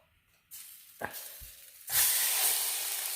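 Eggy bread frying in a pan sizzles in bursts, with a short hiss starting, a couple of quick clanks, then a louder, steady sizzle building toward the end.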